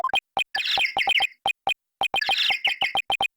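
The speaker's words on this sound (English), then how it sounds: "That's my ringtone." A cute bird-like phone ringtone plays in the Ace Attorney: Dual Destinies video game, a penguin-style rapid series of sharp chirps and squeaky trills that repeats after a short pause, crisp and close.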